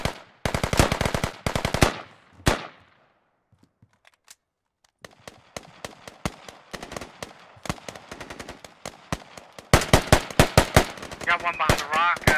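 Gunfire in the military shooter Squad during a house defence, sharp bursts of automatic rifle fire and scattered single shots, some close and loud, others distant and faint, with a short lull between exchanges.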